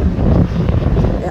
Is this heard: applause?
no